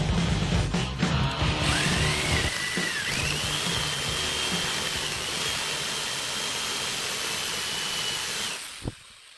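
Power drill boring a large hole through a painted Moto Guzzi cafe racer motorcycle frame, a loud steady whining grind held for several seconds before it winds down and stops, close up with no talk.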